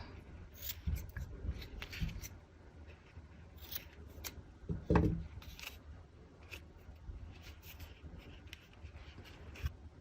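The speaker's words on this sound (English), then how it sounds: "Trim the ends." Scissors trimming the ends of notebook paper for a handmade gift card holder, giving a few quiet crisp snips and rustles spread through the clip, with one louder cut in the middle and no talking.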